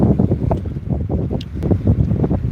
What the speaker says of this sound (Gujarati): પવન છે